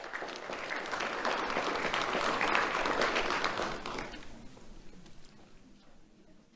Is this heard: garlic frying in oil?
no